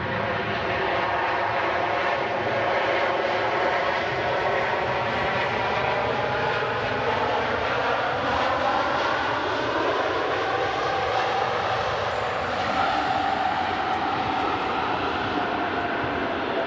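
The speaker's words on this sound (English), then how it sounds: "Emirates A380 touching down." An Emirates Airbus A380 landing at Manchester Airport after a flight from Dubai, its engines a loud continuous roar with a slowly shifting whine across the whole stretch, no voices.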